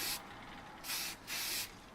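Spray primer paint hisses from an aerosol can onto an AMT U.S.S. Enterprise model kit in three short, steady bursts, close to the microphone with brief pauses between them.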